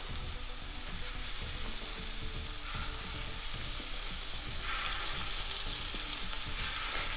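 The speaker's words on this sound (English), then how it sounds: "I'm just going to fry them, make sure that the outside has gotten a little bit of color" Meatballs fry in a hot pan, giving a steady, dense sizzle and crackle that runs unbroken from start to finish, close and fairly loud with no talking.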